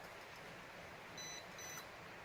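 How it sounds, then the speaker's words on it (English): Holy Stone HS790 GPS camera drone sounding short electronic beeps during compass calibration, two brief tones faint against a quiet background. "once you hear a beep, the next rotation is going to be like this."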